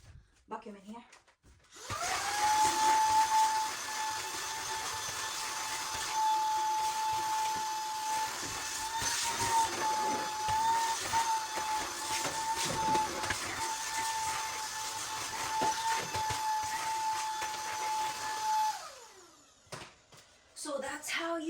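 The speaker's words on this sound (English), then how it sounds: "so then I'm going to vacuum in here." A household vacuum cleaner runs close by in the area around a clothes dryer, switching on with a rising whine and then holding a loud, steady hiss and drone for about seventeen seconds before winding down, with some brief talk.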